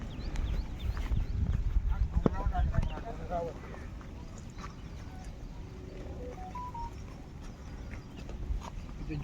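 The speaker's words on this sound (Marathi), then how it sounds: "हे बघा हे बैल येतात फिरायला." Three oxen walk along a rural road near the Haji Malang dargah, their hooves clip-clopping in a faint, uneven patter under nearby talk and outdoor background noise.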